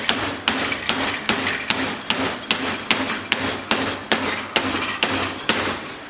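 A big flagging hammer strikes metal while shaping a custom exhaust silencer for a BMW R80/R100 motorcycle. About fifteen loud, ringing blows land in a steady, even rhythm close by, with no talking.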